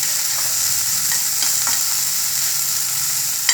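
Vegetables for a mixed-veg Frankie frying and browning in a pan, giving a loud, steady, close sizzle with a few faint stirring scrapes.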